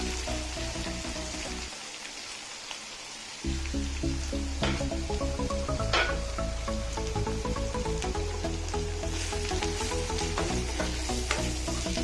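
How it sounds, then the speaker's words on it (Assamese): Spices frying in a pan while being stirred, for a pointed gourd and cabbage dish. A soft sizzle runs throughout with scattered stirring scrapes over a steady tonal background hum, with no voices. "মছলাখিনি দি অলপমান ভাজি ল'ম ভালকৈ।"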